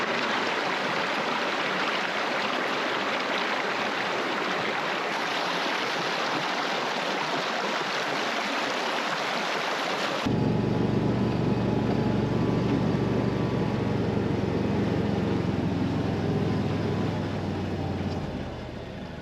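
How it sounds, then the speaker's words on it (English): A Gator utility vehicle riding across farm property, a continuous loud rushing engine and wind roar that shifts partway through to a lower, steadier motor drone with rumble, no talking. "So let's hop in the gator, we'll ride up to the pond and show you that area."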